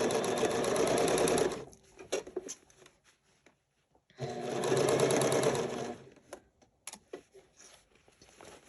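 A sewing machine stitches the lining of a six-panel welding cap in two steady, whirring runs separated by a pause, followed by scattered clicks and handling of fabric.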